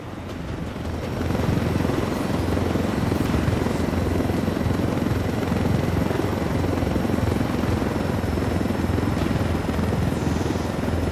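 A helicopter flies in the video game Ghost Recon Wildlands, its rotor chop and engine drone loud and steady throughout after a brief quieter opening, with no talking.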